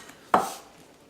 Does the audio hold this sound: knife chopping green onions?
yes